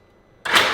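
A Can-Am Outlander ATV engine, recovered after being submerged, turns over: quiet at first, then a sudden loud burst of broadband cranking noise that holds steady close by.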